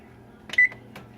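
An oven control panel button gives one short, clear electronic beep, close and alone against a faint background hum.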